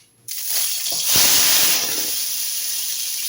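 Overheated cooking oil in a pan on a gas stove bursts into a loud sizzle, swells to a peak, then settles into a steady hiss. No one speaks over it.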